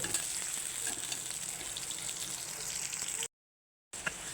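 Onion and green chilies fry in a pan with a steady, moderate sizzle and light stirring, heard close, then broken by a brief gap of silence before the sizzle returns.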